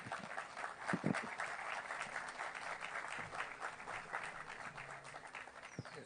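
Audience applause after a conference talk in Peru, sustained steady clapping from a large crowd filling the whole stretch at an even, moderate level with no voices on top.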